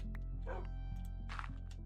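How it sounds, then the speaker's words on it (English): A dog in the Minecraft video game gives two brief, soft barks over a low, steady hum and sustained background tones. "I hear another dog, and I'm scared that they're gonna fall as well."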